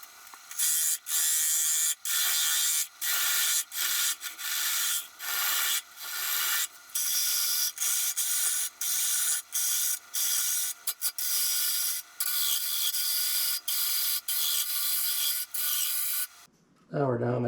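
A tool hogs material out of a live edge black walnut slab in loud, close bursts of grinding and rasping, repeated in short on-off strokes.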